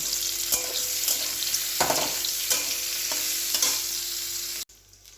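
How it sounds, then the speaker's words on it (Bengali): Fish frying in a pan of oil, part of a Bengali home-cooked meal, with a steady close sizzle and repeated stirring or scraping strokes that stop abruptly near the end. "মাছ ভাজা হচ্ছে"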